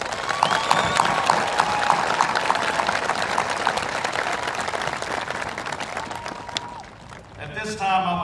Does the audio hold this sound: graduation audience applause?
yes